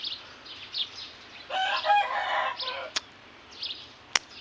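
A rooster gives a single crow mid-clip, near and fairly loud, amid scattered bird chirps and two sharp clicks.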